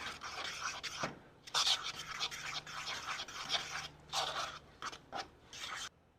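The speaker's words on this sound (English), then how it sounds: "And we're going to give that a good whisk." Buttermilk batter with taco seasoning for cheesy jalapeño street corn fritters is whisked briskly in a bowl, a close run of quick scraping bursts broken by short pauses.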